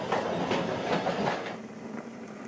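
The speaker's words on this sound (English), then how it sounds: "The museum vehicles are being moved by the engine driver under the watchful eye of the signalman and the shunter." Museum railway vehicles shunted by an engine at a model railway day, giving a steady low rumble with soft clanks and rolling rail clicks, continuous and moderately close, without talk.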